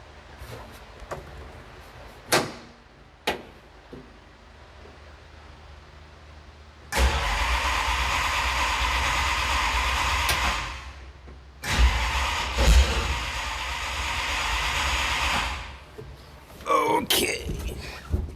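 Dodge D150 race truck engine cranks and fires up after a fuel and nitrous system install, roaring loudly for several seconds, dropping off, then restarting and running again, with brief sounds from nearby people between runs.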